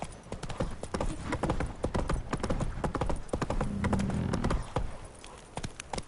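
Horse hooves clip-clop in a rapid uneven gallop across ground in the video game The Witcher 3: Wild Hunt, dense close strikes that ease off and thin out near the end.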